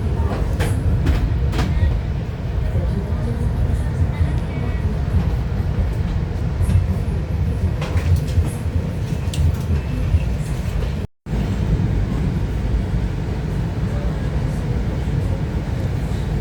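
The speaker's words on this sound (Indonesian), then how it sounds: "kereta api Pangandaran telah tiba di stasiun Kiara Condong" The Pangandaran passenger train rumbles steadily close by arriving at Kiaracondong station, with rolling low-end noise and faint clatter, a brief dropout near the end, no voices.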